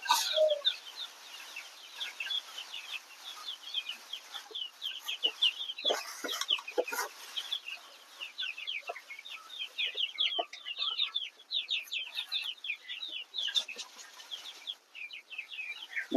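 Small chickens kept alongside quail make constant, busy, high-pitched chirping and clucking, many quick calls overlapping at a faint level, with an occasional rustle.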